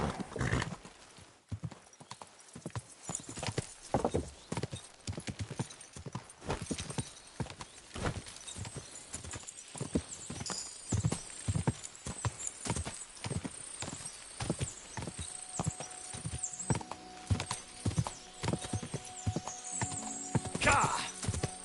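In the Kingdom Come: Deliverance II video game, a horse's hooves clip-clop in a brisk, steady rhythm throughout, and the horse whinnies near the end.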